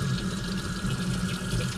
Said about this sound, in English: And put some water in there.